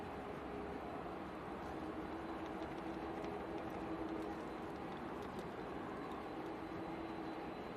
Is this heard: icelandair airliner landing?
yes